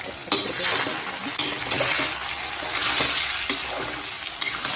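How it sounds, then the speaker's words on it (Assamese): Chicken curry with potatoes is stirred in a pot over a steady frying sizzle, with scattered scraping clinks of the spoon against metal and a clatter near the end as the lid goes on. "এতিয়া ভালকৈ লৰাই ঢাকনখন লগাই দিওঁ"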